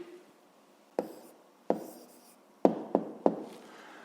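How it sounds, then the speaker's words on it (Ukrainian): Pen or pencil writing an answer by hand on paper, five short distinct scratchy strokes separated by pauses, close and fairly quiet with no talking. "Записуємо тоді відповідь."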